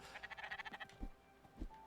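A short, fluttering bleat like a sheep in the video game Spiritfarer, followed by two soft thuds, quiet and alone with no talking.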